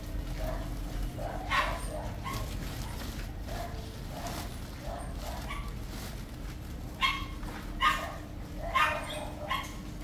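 Dogs and puppies on a Vietnamese farm bark in a few scattered yips over a steady low background hum, moderately distant.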